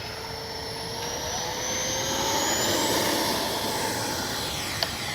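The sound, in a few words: Flyfans L-39 Black Diamond 64mm RC jet taking off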